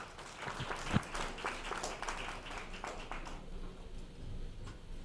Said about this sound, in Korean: 여러분, 신순철 교수님을 박수로 맞이해 주시면 고맙겠습니다.